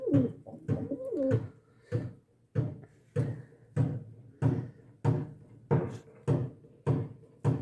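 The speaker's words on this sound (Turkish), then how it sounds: "Diğer kuşlarımız da yumurtada yatmaya devam ediyor." Domestic pigeons or doves brooding on eggs coo repeatedly in a steady rhythm of about a dozen close, clear, throaty calls, each swelling and fading, with nothing else competing.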